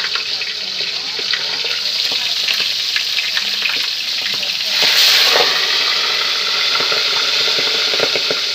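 Whole milkfish without any flour coating frying in hot oil, a steady dense sizzle with a louder crackling burst near the middle, and no voices over it.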